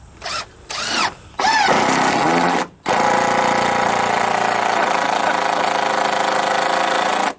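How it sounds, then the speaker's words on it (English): A cordless power tool runs in a few short bursts, then a long sustained whine that stays loud and steady, close by, with a harsh buzzing tone as its battery runs down. "that's the sound the battery makes when it starts running down"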